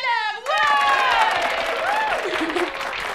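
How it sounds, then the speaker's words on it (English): An audience at the Camp Rock camp talent show breaks into applause and cheering for a performer in a film scene, a loud steady clapping wash beneath a voice and a bright tonal sound. "Applaudissez bien fort la belle Caitlin Geller."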